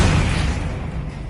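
Levioso levitation spell in Hogwarts Legacy gives a short loud whooshing burst that fades quickly within a moment.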